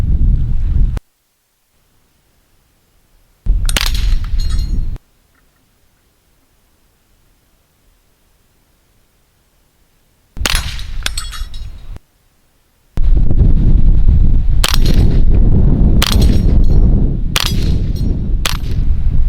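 Rifle shots fired with a low-magnification scope at a small 2-inch steel plate 50 meters away: several loud, sharp reports in separate bursts with silent gaps, the later ones bunched closer together, close and alone with no talking.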